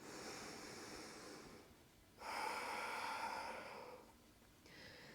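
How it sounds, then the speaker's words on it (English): Slow, deep breathing during a yoga flow, two long airy breaths close to the mic, each rising and then fading, with a softer third breath starting at the end. "Take a few deep breaths."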